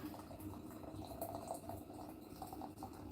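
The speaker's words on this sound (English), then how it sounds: "You put your boiling water in there." Hot water from a kettle splashes and bubbles softly into a cup for herbal tea, a faint, steady liquid trickle without talk.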